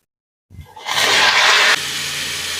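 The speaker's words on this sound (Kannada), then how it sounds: "ಇವಾಗ ಇದಕ್ಕೆ ಕಟ್ ಮಾಡಿ ಇಟ್ಕೊಂಡಿರ್ತಕ್ಕಂಥ ಬಾಳೆಕಾಯಿನ ಸೇರಿಸ್ಕೊಳ್ಳೋಣ." Cut raw banana pieces drop into a hot frying tempering for balekayi palya. After a brief silence a loud, sudden sizzle bursts out, then settles into a steady, slightly quieter frying hiss.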